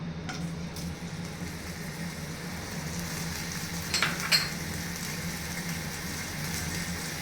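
Tomatoes fry in hot oil for tomato chutney, a steady close sizzle and crackle with a couple of brief stirring clinks partway through, no voices.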